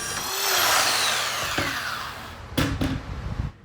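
A power sander works on a metal workbench frame, a loud steady broadband whir with shifting pitch through most of the moment, followed by a few short bursts of grinding contact near the end.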